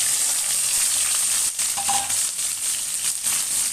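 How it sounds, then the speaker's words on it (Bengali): Red spinach frying in a pan with chopped garlic and dried chili, a steady close sizzle with a brief stir or clink partway through, no talking. "এখন আবার আমি রসুন কুচি আর শুকনো মরিচ দিয়ে শাকটাকে বাগার দিয়ে নেব"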